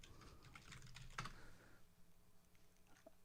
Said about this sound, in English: Hopefully my typing will suffice.